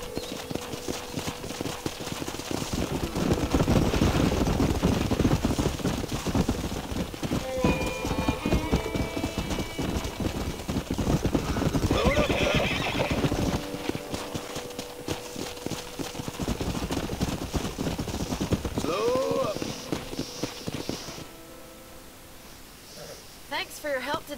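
Horse hooves clip-clop steadily in the Red Dead Redemption video game, a rhythmic walking gait heard under game music and character dialogue, with a few pauses and shifts in level.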